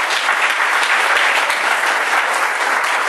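A church congregation claps together at an offering of applause during a sermon, a dense, loud, steady wash of handclaps filling the whole stretch without a break.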